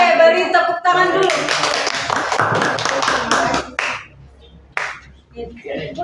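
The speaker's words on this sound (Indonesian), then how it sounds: "Oke, beri tepuk tangan dulu." A classroom audience breaks into a burst of hand clapping that tapers off into scattered claps and murmuring voices, with a few separate claps near the end.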